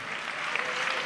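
Applause from a live music crowd at a tribute band concert, a steady dense patter of clapping heard briefly and at a fairly quiet level, with no voices on top.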